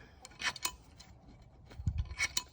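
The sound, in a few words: loosening a bolt on Porsche 997 Turbo rear brake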